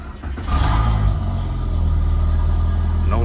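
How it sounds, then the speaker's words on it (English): A Volkswagen MK4 GTI engine cranks and fires up, then settles into a steady low idle rumble, close and loud, over a few seconds. "And let's start the car, see?"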